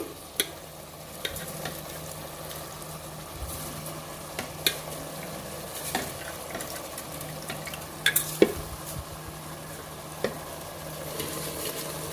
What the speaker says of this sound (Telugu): బియ్యం కూడా వేసేసుకొని దీన్ని చక్కగా కలుపుకోవాలి